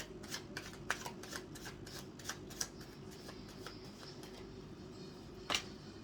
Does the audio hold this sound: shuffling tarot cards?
yes